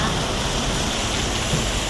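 Heavy rain pours steadily nearby, a loud unbroken rushing hiss with no voices.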